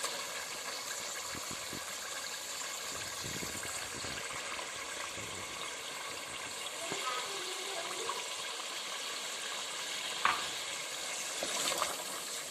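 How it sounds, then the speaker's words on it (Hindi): Chopped onion goes into browned mutton where the oil has separated, for suhanjna gosht. A quiet, continuous sizzle and frying hiss runs throughout, with someone talking over it. "इसमें अब हम एक चॉप की हुई प्याज डाल देंगे।"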